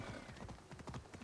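Horse hooves clip-clop steadily in Assassin's Creed Odyssey, a quick, even trot of repeated hoofbeats heard close and clear with no talk over it.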